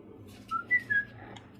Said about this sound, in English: I didn't whistle for come, I just whistled for attention.